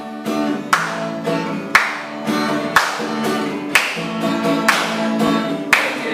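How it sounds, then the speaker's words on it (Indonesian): A church congregation at a Sunday service claps in time while singing a praise song, sharp claps landing at a steady beat roughly once a second over sustained voices and music. "Yuk kita mau nyanyi sambil tepuk tangan"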